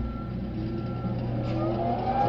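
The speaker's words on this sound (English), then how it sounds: "You hear the blower starting." Blower motor on a Unity Press Model H starting up after its switch is flipped, a steady mechanical hum and whir that rises slightly in pitch as it spins up, close and continuous with no talk.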